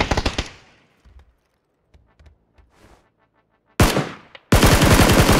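Shotgun blasts and rapid gunfire in the battle royale game PUBG, with a loud burst at the start, a few faint distant shots in between, then heavy close fire at the end.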